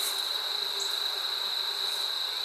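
Honeybees buzz steadily at a hive while workers drag a dead bee out, a continuous close, even hum with a faint high whine and no talk.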